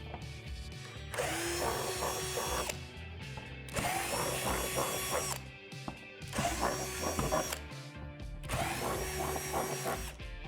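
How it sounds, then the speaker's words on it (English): A power drill with a 3/8 bit whirs in three long bursts of roughly two seconds each while drilling holes for a playset climbing wall, with short pauses and mechanical clatter between them, close and loud. "Drill out these 4 holes in the middle of these shapes."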